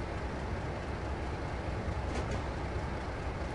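Train rumble in Train Simulator on the East Coast Mainline, a steady broadband roll of wheels and engine that holds evenly throughout with a faint brief squeal near the middle.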